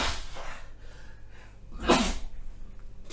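A single loud sneeze bursts out near the middle, close to the microphone, preceded by faint breathing and quiet background noise.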